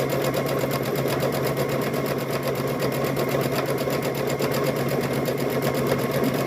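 A sewing machine stitches a seam on a stuffed bear, its fabric pieces right sides together, in one continuous, even, close-up whirring run with a rapid rhythmic chatter.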